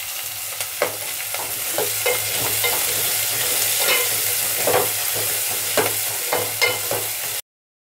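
Chopped onion with a little curry leaf frying in a pan for a cauliflower and potato curry, giving a steady close sizzle broken by repeated stirring scrapes, with no talk over it.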